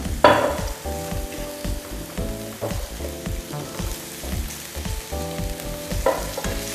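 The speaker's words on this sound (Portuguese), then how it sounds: "Vou pôr um fiozinho de azeite para ela fritar." Food frying in a drizzle of olive oil in a pan: a steady, close sizzle with rhythmic scraping and stirring knocks throughout, with no voices.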